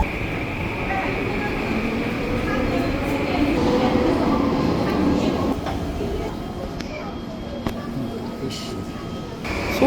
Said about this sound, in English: now on the westbound platform of the SkyTrain, going back to 22nd